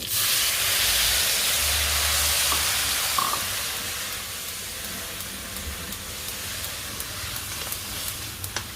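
Water poured into a pan of stir-fried cabbage and glass noodles sends up a loud, close hiss of steam and sizzle that gradually settles into a softer frying crackle.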